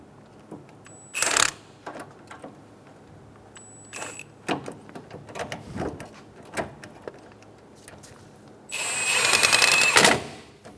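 Nuts on a front engine mount bracket of a 2003-2007 Honda Accord 3.0L V6 are tightened with a tool, giving quick bursts of rapid ratcheting clicks separated by quieter pauses, with a longer, louder run near the end.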